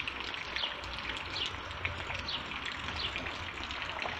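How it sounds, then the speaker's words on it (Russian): Steady rain falls during prolonged wet weather in Krasnodar Krai, a dense soft hiss with scattered close drips and patters, fairly quiet and continuous throughout with no voices. "У нас опять дождь."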